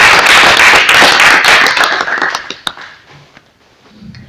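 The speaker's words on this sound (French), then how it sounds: "On applaudir s'il vous plaît." A small group at a coaching session on exam stress claps loudly and close for about two seconds, then the clapping thins to scattered claps and fades into near silence.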